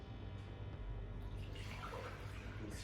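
Water pours steadily into a clean bowl as the liquid base for a wild turkey breast brine, a continuous close splashing rush with no talking.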